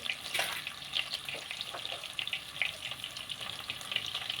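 Onion and dried red chillies crackling in a hot tempering for chicken biryani, a steady close hiss with scattered sharp pops and spits, no voices.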